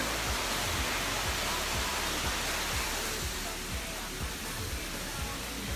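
A waterfall roars close by as a dense, continuous rush of broadband noise that stays loud and steady throughout.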